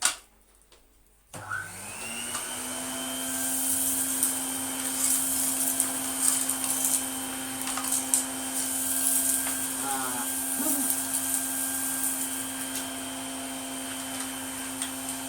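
A 1980 Spinney U62 budget vacuum cleaner starts up and runs with a steady, loud motor whine and an airflow hiss, with a few bumps and brief changes in pitch as it is moved around.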